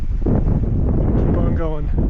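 Strong wind buffets the microphone on an exposed mountain trail in Colorado during a bikepacking trip, a loud continuous rumbling roar, with a person speaking briefly over it.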